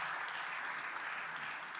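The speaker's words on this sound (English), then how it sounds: "Big cheer for the debaters on either side, if I can." Debate audience at an Africa infrastructure forum applauding the debaters, a steady wash of moderate clapping without breaks, heard from within the hall at a modest level.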